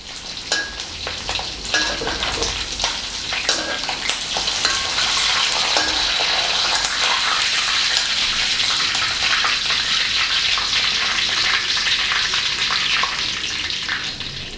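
Pork belly frying in hot oil with fish sauce, a steady dense sizzle and crackle that runs loud and continuous throughout, with no voices.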